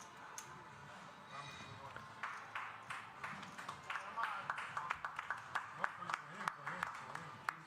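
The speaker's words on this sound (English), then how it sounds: "Gets a round of applause from the table" Players around a poker table at a live tournament break into a round of applause, sparse claps building into a quick run of sharp, closely spaced claps over a low background murmur of the card room.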